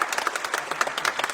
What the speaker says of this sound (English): one more round of applause for Kay.